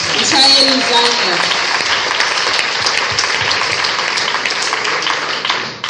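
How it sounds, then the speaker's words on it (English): Church congregation clapping loudly for the Lord Jesus during a sermon, a dense and sustained round of applause lasting several seconds, with a brief voice or tone at the start and a fade at the end. "Clap your hand for the Lord Jesus."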